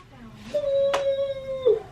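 A dog gives a drawn-out, wavering howl, rising at the start and sliding down at the end, close and fairly loud for about two seconds.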